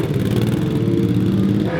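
A Ducati Panigale 1299 sportbike ridden on a racetrack, its engine droning steadily and loud for the whole stretch, close by, with no voices over it.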